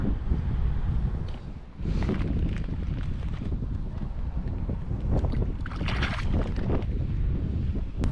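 Steady wind buffets the microphone on a fishing boat out on open water, a constant loud rushing roar that dips briefly near the start, with faint knocks and water movement beneath and no talking.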